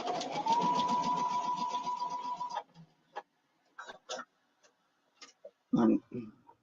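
Sewing machine running a back stitch along a quilting seam with a 1/4 inch allowance, a steady rapid ticking chatter for about two and a half seconds, then stopping, followed by scattered handling clicks and brief quiet talk.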